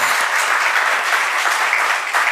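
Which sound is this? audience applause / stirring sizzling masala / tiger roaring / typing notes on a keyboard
audience applause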